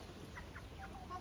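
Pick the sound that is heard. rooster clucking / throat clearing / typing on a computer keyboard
rooster clucking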